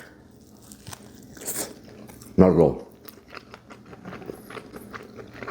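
Katz's Deli pastrami gets bitten into with one loud, close crunching bite, followed by faint chewing and rustling, while a person talks around it.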